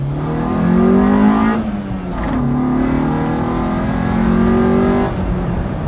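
A Honda CR-V engine fitted with an induction pod intake revving hard, rising and falling through several loud throttle sweeps with a raspy, open intake note, close by.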